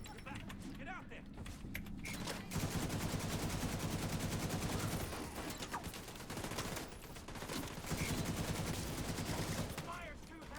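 Heavy automatic gunfire rattles through a tactical shooter firefight, continuous rapid bursts layered from several weapons, fairly distant and steady across the clip with brief lulls between volleys.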